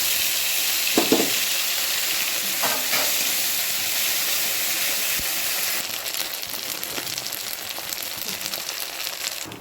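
Ginger, cumin and dried chilli tempered in hot oil for a Bengali fish dish, giving a loud, continuous sizzle with sputtering crackles and a burst of intensified frying noise partway through.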